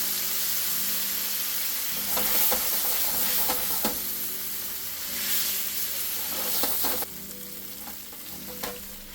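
Tofu and spinach stir-fry in a pan with soy sauce, giving a continuous close sizzle and hiss broken by repeated scraping stirs. No one speaks, and the frying drops a little quieter toward the end.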